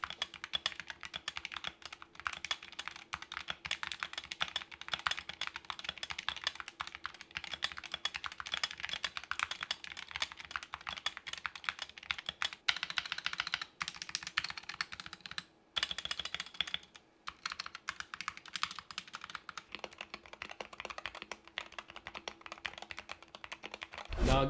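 Rapid, fairly quiet typing on a SteelSeries Apex Pro Mini Wireless keyboard, a dense patter of clacking keystrokes with a few brief pauses, close up and with no voices.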